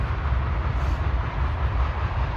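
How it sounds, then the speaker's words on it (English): A train rumbling along in the background, a steady low roar with a slight pulsing texture, moderately loud and continuous through the short stretch with no talking over it. "That train just keeps on trucking on."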